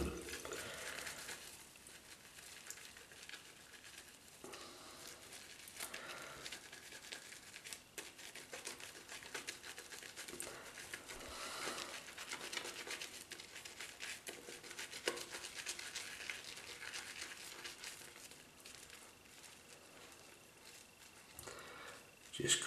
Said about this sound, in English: wet the brush, wet the stick, and just in the sink, just lather up